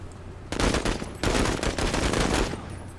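Rapid automatic gunfire from the strategy game Menace, two loud dense bursts of rattling shots close up, the first starting abruptly and the second following after a short break, with no talking.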